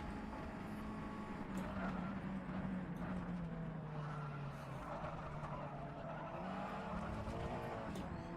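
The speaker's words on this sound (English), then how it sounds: "Big skids" A USF2000 race car in rFactor 2 at Sebring: a steady engine drone with gliding pitch under a continuous scrubbing tyre skid and squeal, fairly constant level throughout, no talking.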